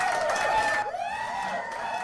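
Cheer sound effect playing on a win screen in the video game Zoom, a short synthetic burst of crowd-like cheering with bright warbling tones that dips and rises again over about two seconds.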